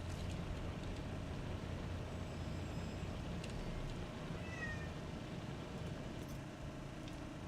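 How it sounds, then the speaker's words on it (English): A house cat yelling in a couple of brief meows, faint and somewhat distant, over a steady background hum. "Is my cat yelling at me?"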